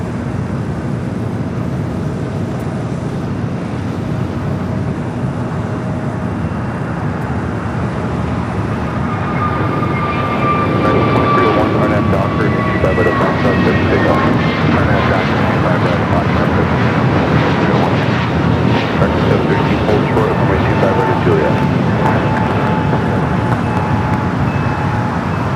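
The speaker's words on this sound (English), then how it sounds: "Next takeoff, American Airlines flight 1186 heading to Dallas Fort Worth, Texas, an A321 Neo" An American Airlines A321neo jet takes off at LAX bound for Dallas Fort Worth: a steady, broad engine roar with whining tones swells louder about midway and holds, with wind buffeting the microphone throughout.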